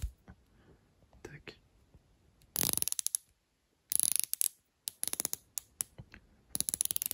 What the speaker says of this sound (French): cette lunette rotative unidirectionnelle qui est faite